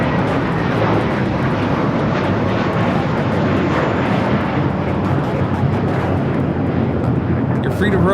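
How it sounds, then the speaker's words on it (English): A Korean Air Boeing 777-300ER jet takes off, a steady, loud broadband engine roar that holds constant throughout without clear rise or fade. "Korean Air Flight 18, the 777-300ER taking off to Seoul"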